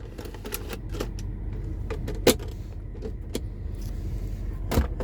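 Small plastic clicks and a soft mechanical latch sound inside a quiet 1999 Mercedes S500 Grand Edition, with a couple of sharper snaps as a cup holder pops open.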